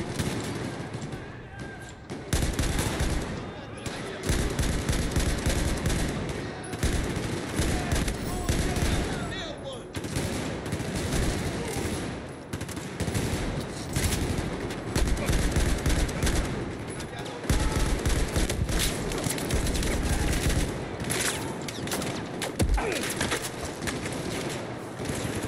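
AK-12 assault rifle fire in Battlefield 4 crackles in repeated bursts over a long stretch, loud sharp shots with brief pauses between volleys, amid steady battlefield din and occasional speech.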